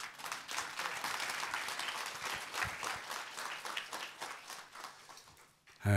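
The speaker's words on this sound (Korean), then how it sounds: "우리 정말 사랑을 실어서 박수 한번 보냅시다" A crowd at a town hall meeting on fine dust pollution in Ulsan applauds with steady, sustained clapping for several seconds before it ends abruptly.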